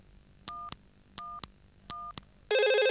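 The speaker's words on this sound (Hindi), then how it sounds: "पीके का फोन लगाइए।" A telephone number is keyed in as three pairs of quick touch-tone beeps, each pair evenly spaced, followed by a loud steady ringing tone on the line. The sound is clear and close, with no voices.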